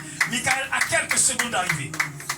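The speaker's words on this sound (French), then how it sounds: "Applaudissez le Seigneur" Steady rhythmic hand clapping from a worship gathering praising the Lord, with regular sharp claps running under loud singing and voices throughout.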